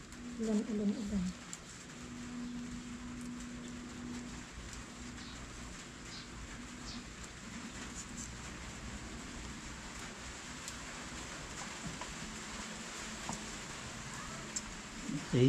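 Steady rain falling, a constant broadband hiss lasting throughout, with voices and some background activity heard faintly underneath.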